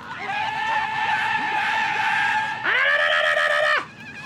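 Screaming weapon in Borderlands 2 gives a loud, sustained, shrill wail that wavers, then jumps higher for a second before cutting off.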